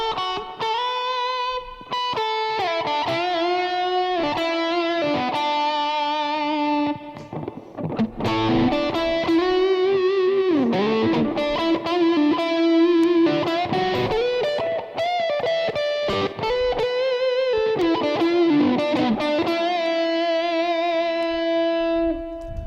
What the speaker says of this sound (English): you're really going to get that high gain that you want